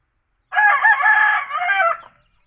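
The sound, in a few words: pet chickens clucking and rooster crowing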